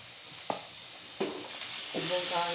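Cabbage frying with chicken wings in a pan, stirred with a few distinct scrapes over a steady close sizzle that grows louder toward the end.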